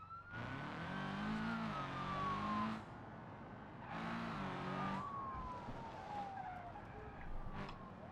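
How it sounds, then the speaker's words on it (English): Engine of the Sunburst car in the BeamNG video game, revving up and down in two long surges with tire squeal and sliding, loud and without speech. "so that way you guys can hear the sounds of this engine"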